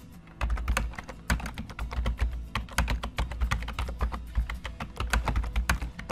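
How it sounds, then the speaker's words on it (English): Fast, busy typing on a computer keyboard, close and crisp, with keystrokes clattering in quick irregular bursts and no one speaking. "I can start typing anything I want in here"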